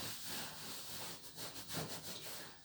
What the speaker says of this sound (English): Maybe give the backs of the legs a rub.